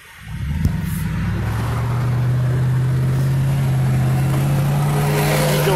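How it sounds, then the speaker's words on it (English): A car on the street, its engine hum swelling in from quiet and holding as a steady, close drone with a low tonal note, no voices over it. "Hold on, wait for this car."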